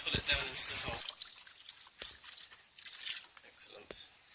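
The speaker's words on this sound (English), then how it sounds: "Now what we can do is to put some water in here, and the weight of that will pull it down into the hole." Water pours and splashes into a pond liner set in a hole for a garden wildlife pool, a loud rush at first, then scattered trickles and drips over a second or more.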